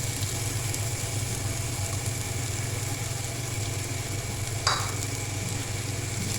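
Finely chopped onion frying in oil in a pan for creamy potato chicken kababs: a steady, close sizzle that holds evenly throughout, with one brief utensil clink near the end.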